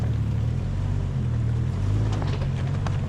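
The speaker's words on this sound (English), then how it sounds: "The sounds of the nearby waterfall mixes with the calls of the birds and the rustling" A nearby waterfall at Grotto Falls in a British Columbia forest gives a steady, loud rushing roar with dense low rumble, continuous and unbroken, with a few faint higher sounds near the end.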